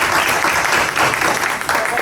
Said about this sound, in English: I would like for us to give her a round of applause.